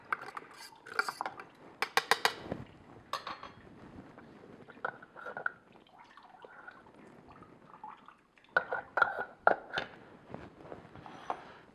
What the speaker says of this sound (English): I'm going to stir it around a bit